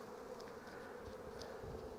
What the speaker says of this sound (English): there's quite a box of bees here